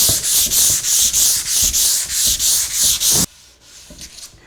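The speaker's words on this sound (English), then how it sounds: "take 220 grit sandpaper on my sanding block and sand the surfaces just to smooth them out" Rhythmic back-and-forth scraping of 220 grit sandpaper on a sanding block across wood, about a dozen even strokes, close and loud, then stopping abruptly into near quiet.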